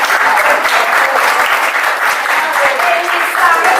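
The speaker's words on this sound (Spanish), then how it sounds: "Ojo, un aplauso para este" A workshop audience at a family constellations gathering claps loudly and continuously, a thick, steady wash of hands with a faint voice now and then underneath.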